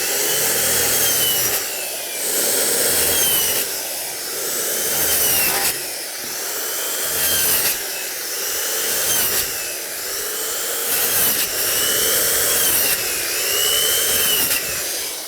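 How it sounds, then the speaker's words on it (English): Power saw plunge-cutting a plywood subfloor, cutting out a toilet opening at several angles; a loud, steady rasping cut in repeated passes, each surging for a couple of seconds before briefly easing, with no talk. "it's just a plunge cut in multiple angles"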